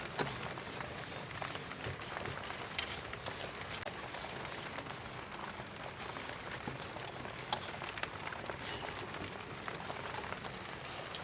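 Rain falls outside in a steady, even hiss of drops that holds at the same faint level throughout, with no voices.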